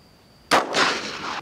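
A single sharp handgun shot cracks out loud and close at a shooting range, followed by a dense echoing tail that rings for nearly a second before cutting off, with no voices.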